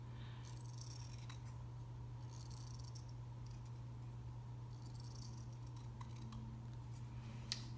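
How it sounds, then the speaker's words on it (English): Scissors cut around the edges of quilted scrap fabric and batting, giving soft, scattered snips that sit faintly over a steady low hum and background hiss. "So I just sort of eyeball it and cut about 1/4 inch around the edges."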